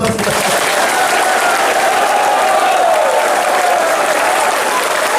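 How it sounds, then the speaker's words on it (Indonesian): Loud, sustained applause and cheering from soldiers at an Aceh army battalion welcoming visiting General Mulyono, the army chief of staff, a thick wall of clapping with crowd voices mixed in throughout. "Tepuk tangan dulu."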